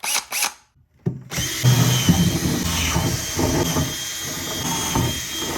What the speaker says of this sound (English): it's time to put some drainage holes into them. And I'm just using a regular drill and drill bit.